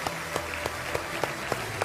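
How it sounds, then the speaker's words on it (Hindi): Studio audience applause greeting guests on a Hindi TV political debate stage, a steady, soft patter of many clapping hands with rhythmic accented claps. "तालियों के साथ स्वागत कीजिए"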